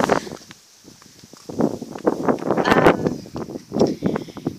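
Wind gusting through leaves in a park, a rough, uneven rustling that swells and fades in bursts, fairly close and moderately loud, with no talking.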